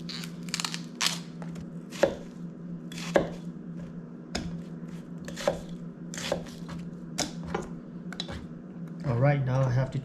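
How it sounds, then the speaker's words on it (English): A knife chops chilies on a cutting board in sharp, fairly regular knocks about every half second, close and clear over a steady low hum, with a brief voice at the end. "now I have to chop up all of these chilies"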